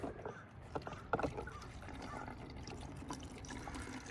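Water is poured into a bottle through a funnel for a dancing raisins kindergarten science experiment, a soft continuous splashing trickle that swells briefly and then runs steadily.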